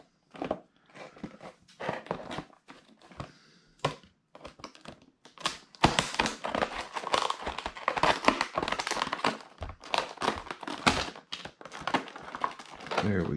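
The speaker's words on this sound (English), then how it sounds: "I have to use the scissors." Scissors snip and crunch through plastic packaging on a scale model kit, with a quiet stretch of light crinkling first, then dense irregular cutting, crackling and rustling up close.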